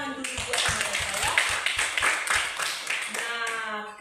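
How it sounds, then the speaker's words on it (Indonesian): Schoolroom of students giving a round of clapping for classmates who shared their opinions, a quick run of uneven group claps with a teacher's voice talking over and between them. "Tepuk tangan dulu buat mereka ya"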